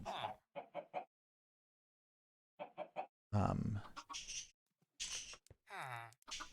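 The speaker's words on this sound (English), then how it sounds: "I brought you this lovely gift of chickens." Chickens cluck in short bursts in Minecraft, with a gap of silence before more clucking and a voice speaking among them.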